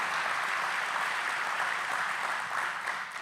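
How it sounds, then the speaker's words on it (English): An audience applauds at an outdoor groundbreaking ceremony for a commercial port of entry in Douglas, Arizona, a dense and steady clapping that runs loud and continuous throughout. "so we could give you a round of applause of a thank you"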